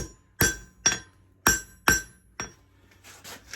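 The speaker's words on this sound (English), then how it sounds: "I'm going to tap right here for a couple hammer licks." Hammer blows tapping on a hot knife blade during forging at an anvil, five sharp ringing metallic strikes at an uneven, roughly half-second rhythm, then a softer scraping sound.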